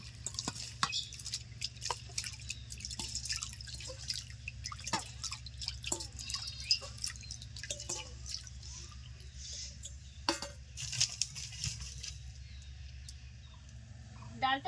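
Washed red lentils and water going into a wok for musur dal with lau shak, heard as scattered drips, small splashes and light clinks over a low background hum, fairly close and quiet.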